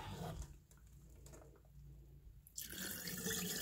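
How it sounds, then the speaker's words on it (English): Rice is rinsed in water and stirred with a ladle, a soft close sloshing and swirling of water that swells into a louder rush of running water near the end. "I don't like to touch it, so I just use the ladle to stir it."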